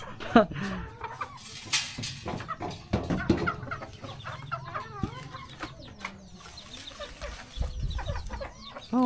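Hens cluck and squawk repeatedly with a rooster's calls mixed in, close by, over faint background noise and scattered rustling, in rural Laos.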